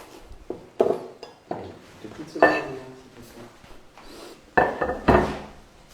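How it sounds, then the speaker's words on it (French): Egg yolks being mixed in a bowl for orange curd, heard as scattered utensil clinks and scrapes against the bowl, with several sharper knocks between quieter stretches. "Je mélange jaune d'œuf"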